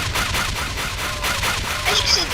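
Turrets fire in the video game Doomed 2 Die, a dense, continuous rattle of rapid game gunfire with scattered impact sounds, loud and unbroken throughout.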